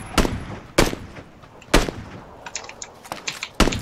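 Gunfire in PlayerUnknown's Battlegrounds: several sharp shots come in an irregular rhythm, some loud and close, others fainter and farther off.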